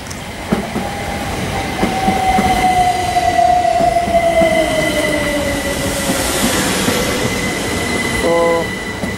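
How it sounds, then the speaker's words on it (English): A Southern Electrostar Class 377 electric train passes through Preston Park station, loud and close, with a continuous rail rumble, a gliding motor whine, clicks over rail joints and a brief high squeal near the end. "This train is in service from Brighton."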